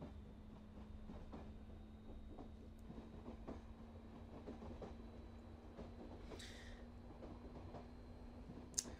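Simulated train in Euro Train Simulator rolling on rails, a low steady hum with a sustained drone and faint, regular rail clicks, quiet and continuous, with a couple of brief higher squeals.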